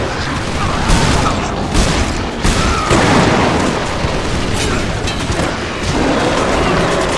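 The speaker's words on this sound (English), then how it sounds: "A few rounds from the Magnum and a Hedgehog grenade will take him out pretty easy." Dense Resistance 2 combat in San Francisco: Magnum rounds and a Hedgehog grenade blast amid a continuous loud wash of gunfire, booms and bursts with no pauses.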